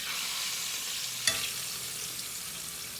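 A pot roast searing in a cast iron Dutch oven, a steady close sizzle with one sharp clank as the meat is flipped partway through.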